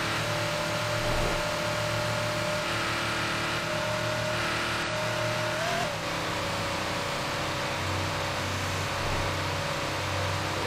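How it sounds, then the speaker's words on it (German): A Porsche engine in the Need for Speed Porsche racing game drones at a steady, low-revving pitch throughout, loud and continuous with a slight pitch rise and fall midway, and no talking. "Der Wagen klingt, als ob der irgendwie mit 300 Umdrehungen nur dreht."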